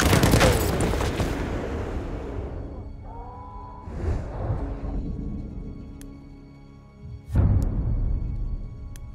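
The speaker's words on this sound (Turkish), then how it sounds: "Makinalı tüfek." Gunfire in a Battlefield match opens loud and close, fades into a quieter stretch with scattered distant shots and a whoosh, then a sharp loud shot returns near the end.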